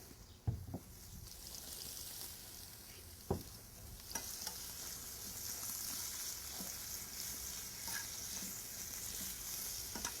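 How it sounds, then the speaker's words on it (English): Steak sautéing on a hot pan, a soft steady sizzle with a few sharp knocks and scrapes early on, quiet and close, no talk. "So now this is on a hot pan, it's sauteing."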